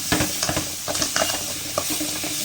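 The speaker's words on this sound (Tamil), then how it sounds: "இப்போ நல்லா வதக்கிக்கலாம்" Tomato sautés in a hot pan, giving a loud, continuous sizzle. Quick spatula scrapes and stirring knocks repeat at an uneven pace.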